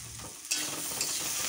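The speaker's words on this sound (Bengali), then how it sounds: "আর এদিকে আলু ভাজা গ্যাসে বসিয়ে দিয়েছি, আলু ভাজা হয়ে আসছে।" Potatoes frying in a pan on a gas stove, a soft steady sizzle with a brief stirring scrape, heard alone and fairly faint.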